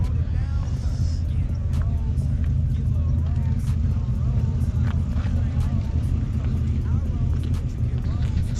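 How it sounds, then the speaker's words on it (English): A Dodge Viper SRT10 V10 engine rumbles steadily and loudly at a car meet, a dense low growl throughout with bits of background crowd noise. "SRT10 Viper engine. That's all I need to say, a Viper engine."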